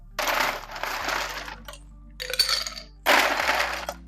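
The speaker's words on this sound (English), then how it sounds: "you're going to start off by filling your Collins glass with ice." Ice cubes tumble into a Collins glass in three separate loud, close bursts of clinking and rattling, each lasting about a second, with no one talking.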